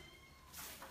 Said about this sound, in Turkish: Kediniz de miyavlıyor.